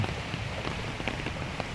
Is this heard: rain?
yes